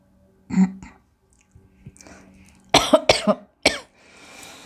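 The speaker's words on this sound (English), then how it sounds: "Sorry for my cough." A person coughs several times in quick bursts, with a throat-clearing cough near the start and a cluster of three or four coughs later, close and fairly loud in a quiet room, with no talking.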